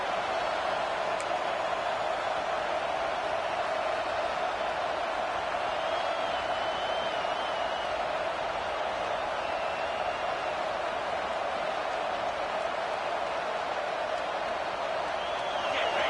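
Football stadium crowd noise during a game against Clemson, a steady, distant roar of many voices rising behind the defense in the red zone, sustained and even throughout with no clear peaks.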